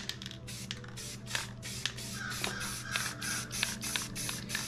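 A spray paint can sprays ink blue paint onto a painted planet artwork in a series of short, hissing bursts, quiet and close, with faint handling noises between the sprays.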